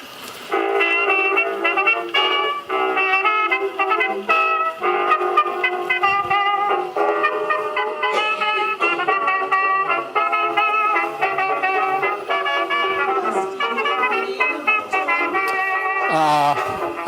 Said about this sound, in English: This is a portable Victrola, by the way, which was really something in 1923.